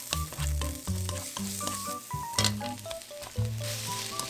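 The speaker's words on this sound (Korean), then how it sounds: "자른 대파와 양송이 넣고 볶아줍니다." Cut green onion and button mushrooms stir-fry in two spoonfuls of cooking oil with minced garlic, giving a steady sizzle that sits beneath prominent background music.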